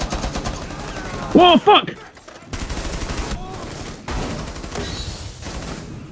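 Video game gunfire in a zombie shooter, a rapid volley of shots over constant game noise, with a player exclaiming loudly mid-burst and more muffled firing and effects continuing afterward.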